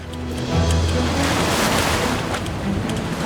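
Turbulent ocean waves churn and slosh steadily around a sailing canoe crossing an open channel between Hawaiian islands near Oahu, Molokaʻi and Lānaʻi. The wash is close and loud, with constant broadband surf and some wind rumble throughout.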